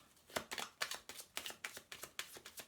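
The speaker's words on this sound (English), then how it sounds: "So I'm going to shuffle them well first." Angel cards being shuffled by hand for a tarot-style reading, a run of crisp riffling bursts about every third of a second, close and fairly quiet, with no talking.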